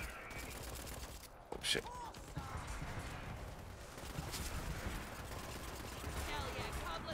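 Heavy-recoil gun firing in a video game, sharp shots and a burst over busy game noise while players talk and react.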